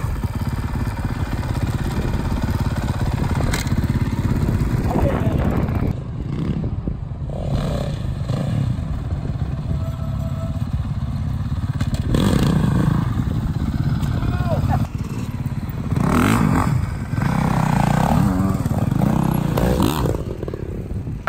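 A Honda motorcycle engine runs steadily and loud throughout, revving up and down as the bike rides along outdoors.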